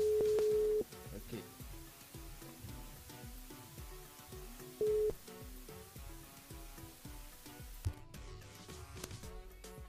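Telephone line during a live radio call, two short steady electronic tones sounding over a faint, crackly busy background of clicks and noise, quiet and close.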